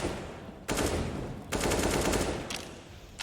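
Bursts of rapid automatic gunfire in a Counter-Strike match between Astralis and NiP at IEM Katowice 2019, three dense volleys at close range with brief lulls between them.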